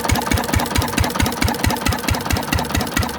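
Antique single-cylinder Witte diesel engine running steadily, with loud, close, evenly spaced firing thumps at a brisk rhythm and a mechanical clatter over them.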